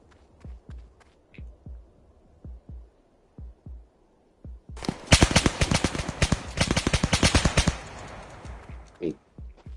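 Rapid gunfire in the Roblox game Tha Bronx 3, a sustained burst of closely spaced shots after a stretch of steady footsteps, loud and close, with short isolated shots before and after.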